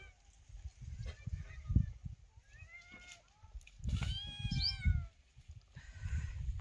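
Two kittens waiting for milk meow in short, rising cries, several calls spread over a few seconds, close by over low rumbling background noise.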